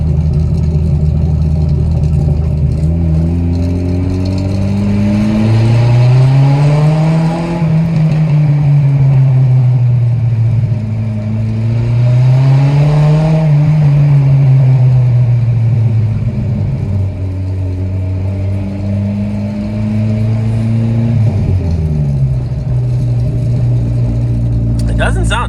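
MK2 Jetta engine with its exhaust fallen off rumbles loudly from inside the car, its deep raw drone rising and falling through several revs and gear changes, with a brief dip before climbing again.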